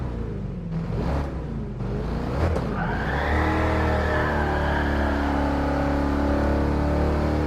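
A 1978 Trans Am V8 in Gran Turismo Sport revs hard as its tires skid and squeal. A few blips give way to a sustained, loud engine roar and screeching tire noise, with no talking.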